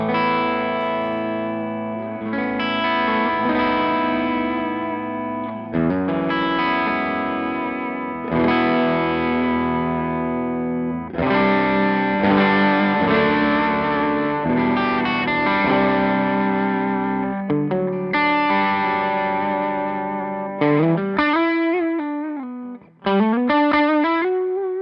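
Overdriven electric guitar through a Majestic Overdrive pedal plays thick, sustained chords and bends in a continuous, loud run, with a few sliding notes near the end.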